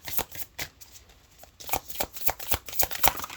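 A deck of Shaman's Dream Oracle cards being shuffled up close, loud riffling bursts in quick succession with brief gaps between them, and no speech.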